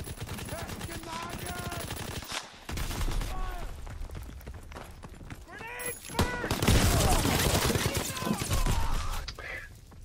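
Dense, loud gunfire from Call of Duty WWII with pump shotgun blasts mixed into rapid machine-gun bursts and battlefield noise, continuous throughout.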